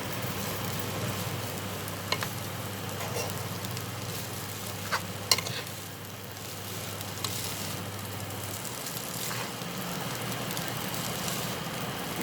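A potato noodle mixture is stirred in a pan over a medium-low flame, giving a steady low sizzle with soft scraping strokes and a few sharper clicks throughout, close and continuous with no talking.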